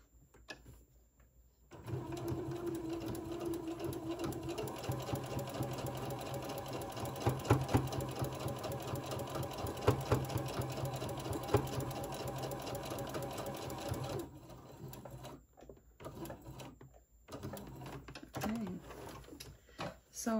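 A sewing machine stitches a fabric face mask with elastic and pleats: a steady mechanical whir runs for about twelve seconds, then stops, leaving quiet handling clicks and rustles.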